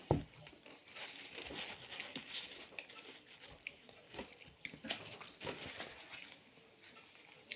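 Paper napkins crumpled during a spaghetti dinner at home, soft irregular crinkling and rustling bursts, close and quiet, with no talk.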